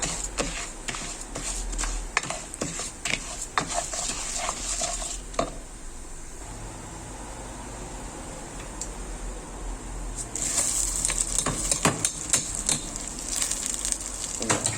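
Washed rice being roasted in a pan, heard as brisk scraping and rattling stirs over a soft sizzle, pausing to a quieter hiss midway before the stirring picks up again.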